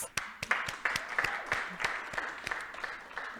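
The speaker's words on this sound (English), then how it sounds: "Students, I'm going to give you a round of applause." A room at a city council meeting breaks into applause for students, with sharp individual claps standing out over a steady bed of clapping that runs throughout.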